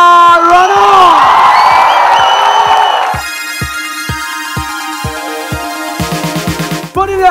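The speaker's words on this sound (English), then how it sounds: "put your hands together and give a huge round of applause for Kangana Ranaut!" Loud cheering and whooping crowd at a music launch event at an arts festival welcomes actress Kangana Ranaut, the shouts rising together before giving way to rhythmic pulsing music beats.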